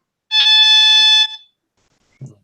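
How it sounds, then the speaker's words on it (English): A loud electronic alarm beeps in one sustained, tonal burst lasting about a second, then cuts off; a brief low thump follows after a pause. "Maybe that'll quit beeping."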